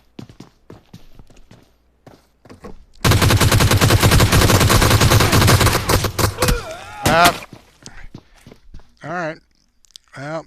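Burst of rapid automatic gunfire in the PUBG Mobile game, loud and sustained for about four seconds before breaking into scattered shots and trailing off, with quiet footsteps and clicks around it.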